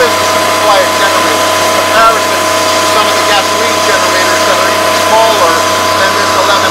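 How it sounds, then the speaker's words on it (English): An 11kW Kubota diesel generator on a food trailer runs at a steady, even drone with a constant hum and faint mechanical whir, close and unbroken throughout. "as far as generators go, this is a quiet generator"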